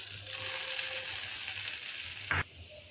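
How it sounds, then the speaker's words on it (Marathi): Cumin seeds tempering in hot oil in a pan, a loud continuous hiss and sizzle up close with a brief bright burst near the end before cutting off. "यामध्ये मी थोडेसे जिरे ओतून घेतले आहे आणि याची फोडणी आपण या चटणीला देऊया।"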